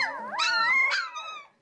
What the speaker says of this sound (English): Their family dog, a Dalmatian named Queenie, has just given birth to 16 puppies